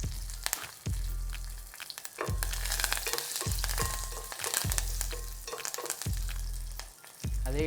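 Curry leaves frying in hot oil for rasam, giving a loud, crackling sizzle that surges again and again as the pan is stirred, heard close and without talk.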